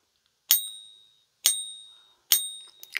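A silver coin is struck in a ping test, giving three clear, close metallic rings about a second apart, each with a bright high tone that fades slowly into silence.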